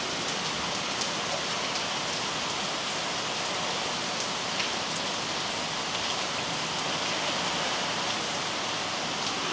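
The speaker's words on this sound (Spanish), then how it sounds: "Está fuerte la lluvia, está fuerte" Heavy rain pours steadily onto a house in a windy storm, a dense, loud and unbroken hiss of drops with no gaps and no voices.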